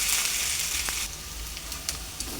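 Ginger garlic paste fries in a hot pan for a Godavari-style korameenu fish curry, giving a steady close-up sizzle with a few faint clicks from stirring, and no talking.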